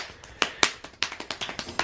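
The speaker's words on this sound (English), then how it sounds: "So clap as fast as you can." A person claps their hands as fast as they can in a short burst of sharp, close slaps that speed up into a rapid, fairly steady rhythm.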